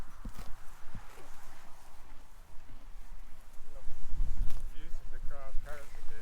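Horses at an endurance riding event clip-clop on hard ground in irregular hoof beats, partly under voices talking and some wind noise.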